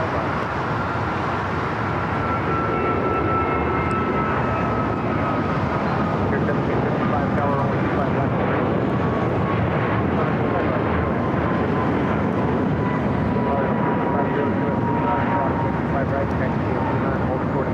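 An Airbus A380 jet at LAX, flight from Monterrey, Mexico, a loud steady engine roar that holds throughout with a faint whining tone over it.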